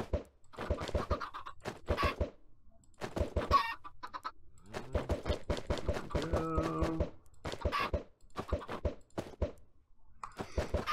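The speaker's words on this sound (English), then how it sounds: "I don't know how many chickens in here, I just know it's not a lot." Chickens in a Minecraft modpack cluck over and over in short, clustered bursts, close and fairly loud, as several birds overlap with scratchy clicks between calls.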